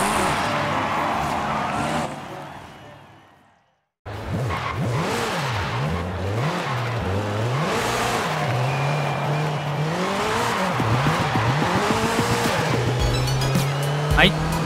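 A Nissan Silvia K's S14 (late model) in Forza Horizon 5 revs and accelerates with a steady, loud engine and exhaust drone that rises and falls, with tire squeal. It drops out briefly and returns, with a voice talking over it.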